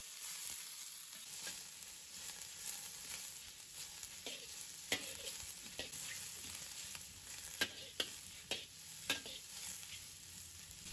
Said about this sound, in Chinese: 炒香后倒入猪肚，把猪肚炒一下